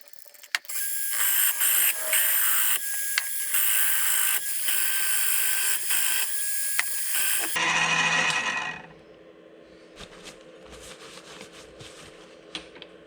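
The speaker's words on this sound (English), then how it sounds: "I'm going to use this to drill out the hole first." Power drill boring out the hole in an oil rail end plug from a 1994–97 7.3 Powerstroke diesel, a loud continuous whine for several seconds that cuts off, leaving quieter rattling workshop sounds.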